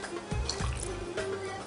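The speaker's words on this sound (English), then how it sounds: "add the rose water." Rose water trickles into simmering syrup in a pot, giving soft, quiet drips and splashes over a low bubbling background.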